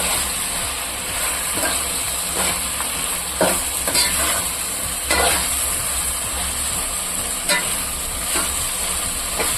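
Peas and bell pepper sizzle steadily in a pan for a vegetable pulao, with a spoon stirring and scraping at irregular intervals, close and loud with no talking.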